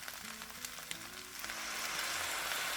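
Soy sauce hits a hot frying pan with egg, and a soft sizzle builds steadily into a fuller, louder hiss that holds to the end, with no talking.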